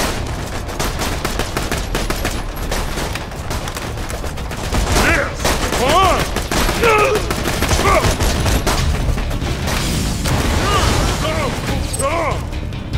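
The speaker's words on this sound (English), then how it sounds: "that was gonna be grenades" Gunfire and grenade blasts in Borderlands 2, rapid shots and crashing bursts continuing throughout at close range, with chirpy sounds and voices mixed in.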